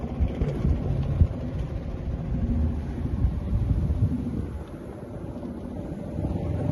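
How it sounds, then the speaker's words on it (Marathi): A fishing boat's motor runs at sea, giving a steady low rumbling drone with wind and water noise throughout, fairly loud and continuous with no talk. "मोटर वगैरे चालू झालेली आहे."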